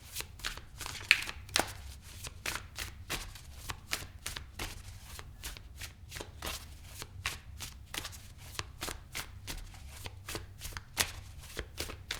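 Tarot cards handled and shuffled by hand, a rapid, regular run of crisp riffling snaps and flutters, close and fairly loud throughout, no voice.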